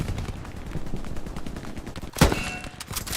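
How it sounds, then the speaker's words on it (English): Gunfire rattles through a Company of Heroes battle, a run of rapid shots followed by one loud, sharp crack that stands out above the rest, then a few scattered reports. "That was a freaking headshot"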